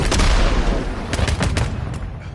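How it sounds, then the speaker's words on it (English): In Call of Duty, a decoy grenade fires off fake gunfire: a short, loud run of sharp, cracking shots, the last few spaced and fading. "Decoy grenade out."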